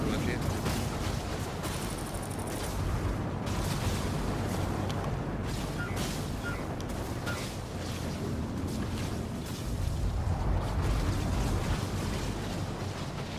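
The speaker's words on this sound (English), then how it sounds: "I think I'm getting shot at" Gunfire in the Star Citizen video game, a dense, loud, continuous barrage of rumbling shots and booms with people talking underneath.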